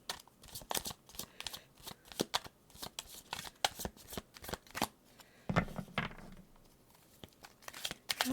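A deck of tarot cards being shuffled, a run of crisp riffling bursts and slaps in uneven rhythm, close and fairly loud with short pauses between.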